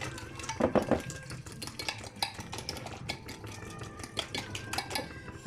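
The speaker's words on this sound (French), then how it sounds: "We cream it all together." Brown sugar being creamed with a spoon in a bowl at a homestead kitchen, giving a steady run of scraping, clinking stirs with brief louder knocks against the bowl, close up and with no talking.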